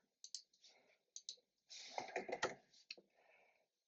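A series of quiet computer clicks, a few isolated taps, then a quick cluster of rapid clicks, close and dry in an otherwise silent room.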